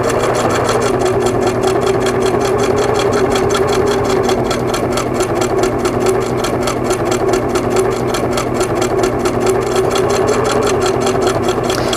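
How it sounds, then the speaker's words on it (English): A Singer 2000 sewing machine stitches steadily around a quilt border, producing a continuous rapid mechanical whir for twelve seconds at close range with no voices. "We're going to continue around stitching down and around the whole border."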